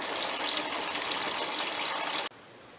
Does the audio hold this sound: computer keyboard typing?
no